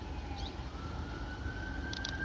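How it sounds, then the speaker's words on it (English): Emergency vehicle sirens wailing in the distance, heard from a cliff above Waimea Bay on Hawaii's North Shore during a tsunami warning. The rising tone is faint and thin over steady outdoor ambience. "I do hear the sirens going off."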